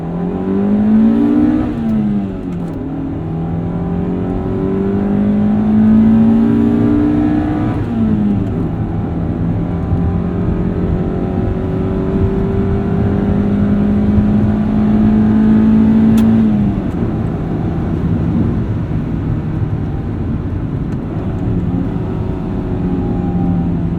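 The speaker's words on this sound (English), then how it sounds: "what a wonderful car to drive" A Honda Civic SI engine pulls hard while driving, loud and close from inside the car, its revs climbing in rising sweeps with gear changes between, over steady road and tire rumble.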